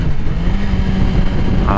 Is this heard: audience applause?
no